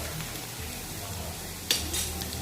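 Grated coconut and green chillies sautéing in a pan over medium heat, giving a soft, steady sizzle with one sharp scrape of a utensil near the end.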